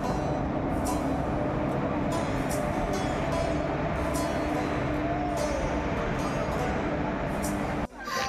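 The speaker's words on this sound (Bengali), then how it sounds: "আমাদের ট্রেন চলে এসছে।" A train pulls into a station platform in Purulia, a steady distant rumble of wheels and engine with faint squeals, ending abruptly, with no clear talking.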